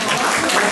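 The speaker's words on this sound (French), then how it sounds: "Avec sa professeure, madame Népal, que je vous demande d'applaudir." Applause from the audience at a school prize ceremony, a dense, even burst of many hands clapping, loud and close, lasting under a second.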